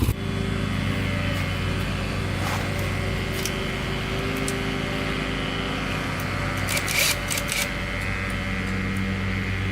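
A Honda 400ex quad engine runs steadily at close range, a loud continuous drone that stays even throughout with no clear revving peaks and no talking.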